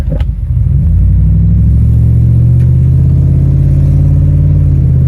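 A car with a newly installed manual shifter pulls away in first gear, its engine a loud, close, rising rumble that holds steady for several seconds after a brief initial clunk.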